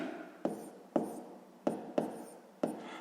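Pen strokes tap and scratch across paper at irregular intervals while a math equation is written out for a sixth-grade exercise, quiet and close, with no speech.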